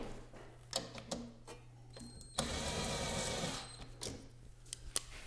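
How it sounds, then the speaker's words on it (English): Power driver running forward to sink screws into a gas fire pit table during assembly, a steady whirring burst lasting over a second between scattered clicks and handling knocks. "I'm going to use a driver. It's going forward."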